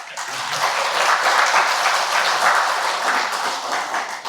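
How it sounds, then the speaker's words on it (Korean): An audience at a creditors' association event in a hall applauds, with steady, dense clapping from many hands that holds for several seconds at a moderate level, without any talking. "박수 한번."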